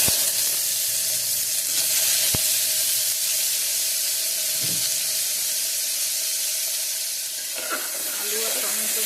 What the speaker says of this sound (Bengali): এবারে দিয়ে দিচ্ছি তোমার আলু আর টমেটো।